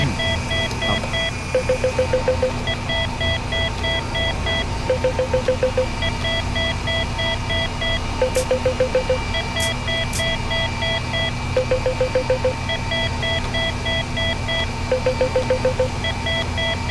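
Cockpit alarm in an FS2004 helicopter flight simulator, repeating bursts of rapid beeps every few seconds over a steady engine drone, persistent and fairly loud for the whole stretch.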